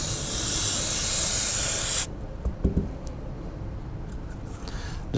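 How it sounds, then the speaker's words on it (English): Aerosol brake cleaner blasts onto a detent sleeve from a Bobcat control valve in a steady, loud hiss for about two seconds, then stops abruptly, leaving quiet shop ambience and a few faint handling knocks. "A little brake clean."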